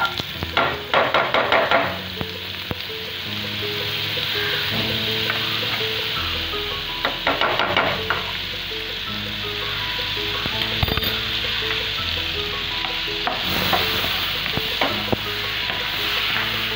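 Butter melts and sizzles in hot oil in a pan with a steady, close frying hiss. A spoon stirs and clinks against the pan now and then.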